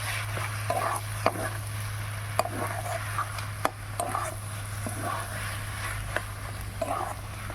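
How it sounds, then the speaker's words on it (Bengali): A spoon scrapes and clacks in a pan, mixing vegetarian cabbage and pea curry with garam masala and a little ghee. Irregular sharp knocks sound over a faint sizzle and a steady low hum. "এবার সবটাটি ভালো করে মিশিয়ে নেব"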